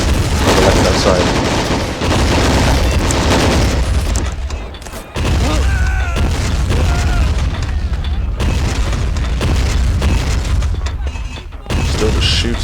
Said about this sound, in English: Still just shooting loads of rounds into them.